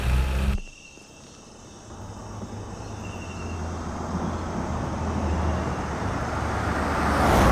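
A car is driven off, starting after a sudden cut into a low engine rumble with road noise that grows steadily louder as it pulls away, alone without speech.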